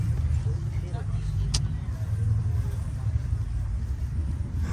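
Old bus fitted with a Cummins 12-valve diesel engine and a big exhaust stack, giving a deep, steady low rumble that idles close by with little change across the stretch.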